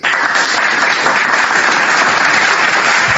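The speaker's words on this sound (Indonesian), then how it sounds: "Tepuk tangan." Loud, dense applause from an audience at a religious question-and-answer gathering, a steady continuous roar of many hands clapping at once without letting up.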